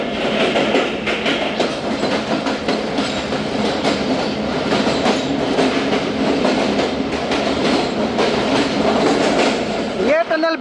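The Thal Express rolls through a curved mountain tunnel, a loud enclosed rumble with rhythmic wheel clatter and rattling carriages that stays steady, and a brief screech near the end.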